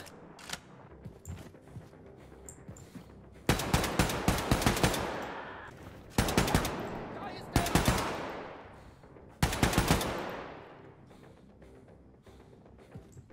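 Gunfire in the video game Wolfenstein II comes in three loud automatic bursts, each a rapid volley of shots with a ringing decay, separated by quieter gameplay sounds.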